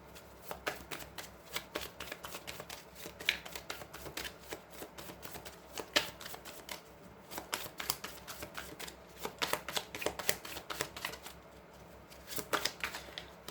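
Lenormand oracle cards are shuffled by hand in rapid, papery riffles and flutters that run continuously with brief pauses, close and fairly soft, with no speech.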